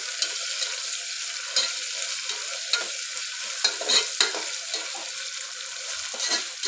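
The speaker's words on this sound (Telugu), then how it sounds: "ఇట్లా మంచిగా ఫ్రై అనేది చేసుకోవాలి ఆనియన్స్, పచ్చిమిర్చి." Onions and green chillies sizzle steadily in a pan while being stirred for tomato rasam, with repeated scraping strokes of the spoon over a constant, close frying hiss; no one speaks.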